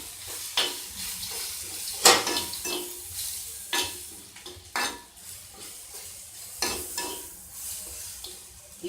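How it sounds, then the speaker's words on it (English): Cabbage and capsicum sauté in an earthen pot, with repeated scraping and stirring strokes, light sizzling and clinks of a utensil against the pot at irregular intervals, close and moderately loud with no talking. "Let's saute it properly."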